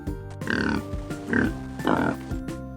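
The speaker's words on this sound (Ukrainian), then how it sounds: "а це свинка. Вона каже." A pig oinks in three short grunting bursts with brief pauses between, close and fairly loud over a steady background hum.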